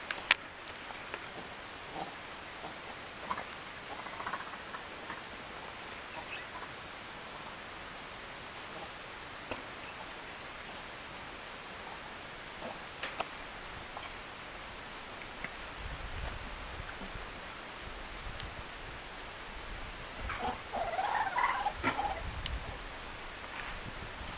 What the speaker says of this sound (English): those are happy and joyful noises that the monkey's making currently